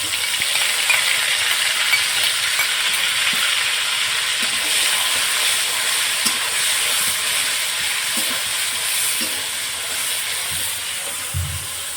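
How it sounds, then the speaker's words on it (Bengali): Ginger and green chilli paste sizzles steadily in hot oil in a pan, a close, continuous frying hiss for a Bengali winter vegetable khichuri, with a few faint clinks and no talk. "এখানে আমি কিছুটা আদা আর কাঁচা লঙ্কা বেটে নিয়েছিলাম, সেটা আমি তেলের উপর দিয়ে দেবো।"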